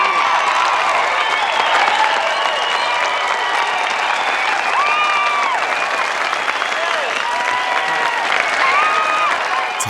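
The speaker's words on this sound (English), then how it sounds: "They stand up and applaud with pride." A crowd at a graduation ceremony applauding loudly and continuously, with cheering voices and shouts mixed into the dense clapping.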